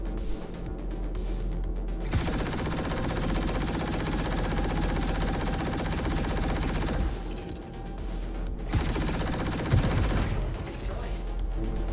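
A single size-one ship gun in the space game Star Citizen fires at a Vanduul ship in long continuous rapid bursts, loud and dense, pausing briefly between volleys.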